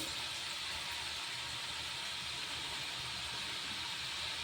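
Jowar flour chakli fry in hot oil with a steady, even sizzling hiss that stays constant throughout, close and unbroken, with no talking.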